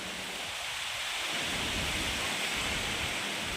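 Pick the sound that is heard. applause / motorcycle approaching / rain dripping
rain dripping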